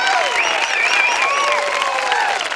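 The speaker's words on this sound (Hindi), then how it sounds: "A big round of applause" An audience in a hall breaks into steady, full applause, dense clapping sustained evenly from start to finish with a faint murmur of the crowd beneath.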